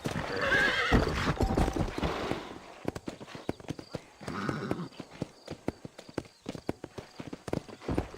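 Horse hooves clip-clop at a walking pace in the Red Dead Redemption video game, with whinnies and busy layered hoof sounds early on, then a steady, fairly close rhythm of individual hoofbeats.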